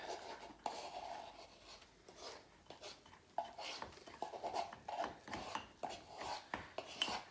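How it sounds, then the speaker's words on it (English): Spoon scraping and rubbing around a mug while mug cake batter is stirred, a soft, repeated gritty rasping in short strokes, close and fairly quiet with no talk. "I'm gonna stir this up."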